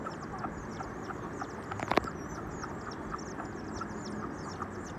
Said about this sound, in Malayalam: എപ്പോഴും സൗണ്ട് ഇട്ടേയിരിക്കും കോഴിക്കുട്ടികൾ.